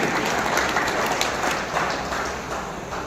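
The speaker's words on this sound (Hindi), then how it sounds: "तो भाई एक जोरदार ताली बजा दो मुख्यमंत्री जी के लिए भी।" Continuous crowd applause at a BJP Kisan Morcha political rally in Mahendragarh, a dense, even wash of many hands clapping at moderate loudness for the whole stretch.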